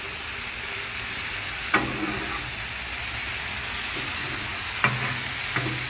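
Corn frying slowly on a Blackstone griddle over medium heat: a steady, close sizzle with soft crackle runs throughout, broken by two sharp scraping clicks of a spatula, with no one speaking.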